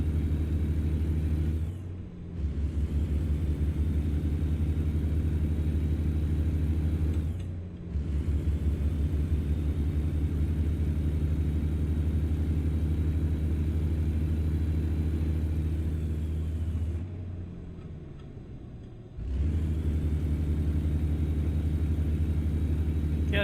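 Truck engine with a slipping clutch in American Truck Simulator, a steady low droning rumble broken by brief dips as the revs drop and surge again, sustained and fairly loud without talk.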